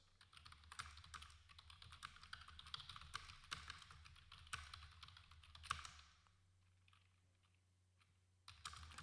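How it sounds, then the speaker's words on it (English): Someone typing on a computer keyboard, quick quiet clicking keystrokes in bursts for about six seconds, then a short pause and a few more taps, over a faint low hum. "I'm typing to you guys on Discord"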